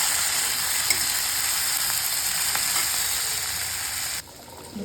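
Garlic and cumin roasting in a hot pan in a home kitchen give a steady, close sizzle and frying hiss throughout, with a few faint clinks and stirring scrapes, ending in a sudden drop to near quiet.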